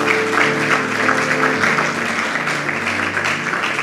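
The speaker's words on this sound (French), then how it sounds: "Alors, acclame très fort, on va commencer." Church congregation applauding loudly and steadily, a dense wash of clapping throughout with a sustained musical tone underneath.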